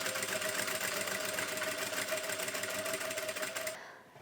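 A sewing machine runs a continuous fast stitching buzz along a sleeve seam of a front-tie top, steady and close for about four seconds before stopping abruptly.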